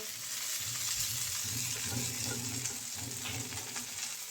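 Long beans (borboti) with onion, green chilli and garlic being stirred and fried in a pan, an even moderate sizzle with soft rhythmic scraping of the spoon, close and without talk.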